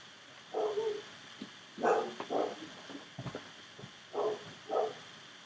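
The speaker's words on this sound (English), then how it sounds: "You hear puppy doggies." Small puppies bark and yip in short, high bursts, a handful of separate yaps spaced out against a quiet background.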